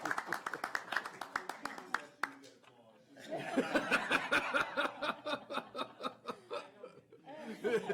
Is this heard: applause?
yes